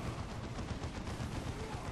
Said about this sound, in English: Why is Avidus firing at the generator?